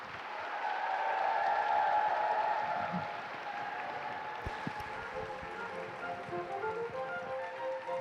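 An audience at a peace conference in Europe claps in a dense, steady round of applause that swells early, then gradually thins and softens toward the end, with faint murmuring underneath.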